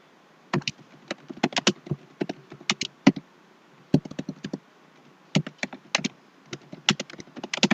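Steady computer keyboard typing while a quiz question is entered, with crisp close keystrokes falling in quick bursts and short pauses and no voices.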